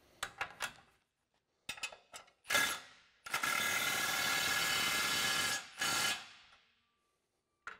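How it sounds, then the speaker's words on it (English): A socket wrench ratchets while tightening bolts on the front weight bracket of a water tank, coming as short clicking bursts and then a longer continuous ratcheting run, close and alone. "take our 1 1/8 open end box end wrench and an 1 1/8 socket and tighten up the three bolts on the front weight bracket"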